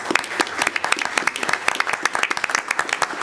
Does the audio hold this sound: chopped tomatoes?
no